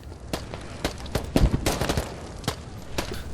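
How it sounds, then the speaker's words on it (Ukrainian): Sharp bursts of Kalashnikov rifle fire in the video game Squad on the Al-Basrah map crack out in short irregular volleys, some closer and louder, with a muffled background between shots. "Чую, стріляють калаши"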